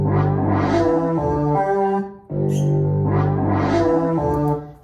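A sequenced pattern plays back from a Fairlight CMI 30A sampler, rich harmonic synthetic tones stepping through a repeating phrase with a high note, cutting out briefly before the loop restarts, loud and close.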